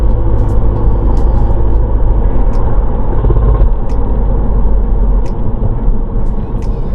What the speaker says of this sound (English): it's a sound that's coming from definitely the middle of the car, and it's a vibration sound